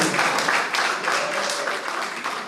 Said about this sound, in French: mais applaudissez quand même